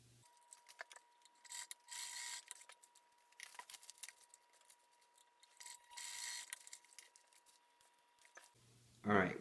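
A sewing machine stitches a fabric panel for a rolltop backpack, its needle running in quick mechanical bursts separated by pauses, close and fairly quiet, with someone speaking briefly at the end.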